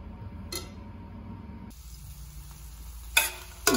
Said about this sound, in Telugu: కర్రీని ఇలా తిప్పుకుంటూ ఫ్రై చేసుకోవాలి